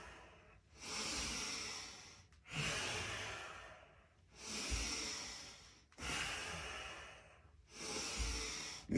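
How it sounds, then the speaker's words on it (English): Deep, steady breaths during powerful yoga warrior movements, five slow audible cycles of airy inhale and exhale with brief pauses between, close and alone without talk. "So my breath, if I wasn't talking, would sound something like this."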